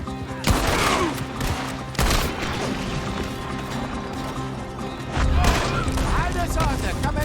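Gunfire in a Red Dead Redemption 2 shootout: sharp, loud shots and impacts in a few heavy bursts, with voices talking over the fighting.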